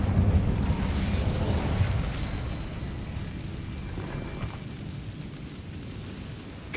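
Incendio fire spell cast in Hogwarts Legacy, a sustained loud fiery roaring burst with heavy low rumble that eases after a couple of seconds and continues as a steady crackling whoosh.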